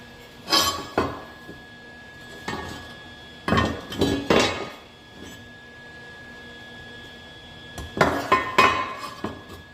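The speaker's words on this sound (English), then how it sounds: "So now I'll trim the flange off right across here." Sheet metal on a 1955 Cadillac floor pan flange is trimmed in several bursts of sharp metallic clanks and cutting noises, close by, separated by quiet stretches with a faint steady hum.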